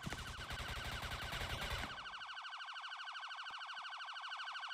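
A loud, rapidly pulsing electronic alarm siren blares in the Roblox game Liberty County, then drops to a quieter repeating warble that keeps cycling with a few faint clicks underneath.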